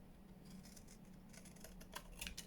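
Scissors snipping through a small paper mini file folder, a faint, close run of quick crisp cuts that grow slightly louder toward the end.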